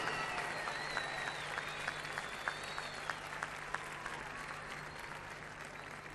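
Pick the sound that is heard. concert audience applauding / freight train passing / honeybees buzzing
concert audience applauding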